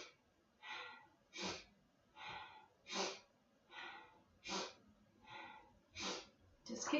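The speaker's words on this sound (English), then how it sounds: "So breathing in as you lift up." Rhythmic, audible breathing during a gentle exercise workout, with about ten even breaths in and out at a steady pace, close but quiet.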